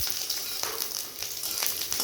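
Garlic frying in hot oil in a pan while drumstick leaves are being cooked, giving a steady close sizzle with a few louder crackling bursts and no voice.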